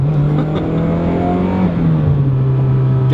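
A turbocharged 2.5-litre Mazda Miata with an EFR turbo, making around 400 wheel horsepower, drones loudly and continuously while being driven, its engine pitch rising and falling slightly with no talking.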